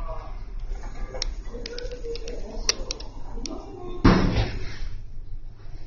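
Elevator doors closing in the Isetan department store in Shinjuku, a soft mechanical rumble with light clicks, then a firm thud as they shut, over quiet background noise.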